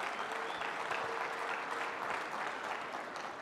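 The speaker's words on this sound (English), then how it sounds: "applause for y'all" Applause from a diving community audience at a PADI social event at the DEMA 2017 trade show: continuous, even crowd clapping at moderate distance, holding steady throughout without a clear start or finish.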